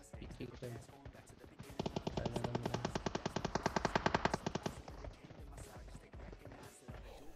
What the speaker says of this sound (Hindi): और गोलियां पूरी जोर शोर से चल रही है